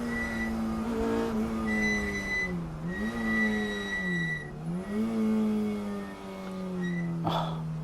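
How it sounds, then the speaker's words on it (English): A modified BMW race car spins at the Snetterton circuit, its engine holding a steady, fairly loud tone that dips and swells as revs change, with a brief scrabbling burst near the end and no voices. "Spinning modified BMW. Come back on the circuit."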